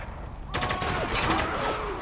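Rapid bursts of gunfire crackle in a Spec Ops: The Line firefight, breaking out after a brief lull and continuing as a dense, loud, overlapping volley.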